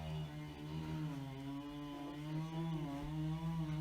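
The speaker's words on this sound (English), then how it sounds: "my neighbors are getting trees cut down right outside my window" A chainsaw cutting down trees just outside a window runs steadily and loudly throughout, its engine droning and wavering slightly in pitch as it works.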